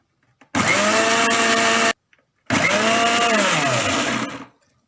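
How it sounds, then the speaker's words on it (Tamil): A blender whirs loudly, blending mayonnaise as oil is added little by little, in two long steady bursts with a brief pause between them. "இதே மாதிரி எண்ணெயை கொஞ்சம் கொஞ்சமாக ஊற்றி அரைச்சிக்கணும்"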